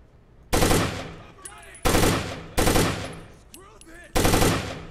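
Gunfire in the tactical shooter Takedown, heard as four loud, sharp bursts of automatic fire spaced about a second apart, each decaying with a ringing tail, with brief clicks and whirring between shots.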